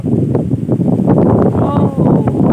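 Steady roaring wind buffets the microphone throughout, loud and close, with a voice briefly audible beneath the gusts.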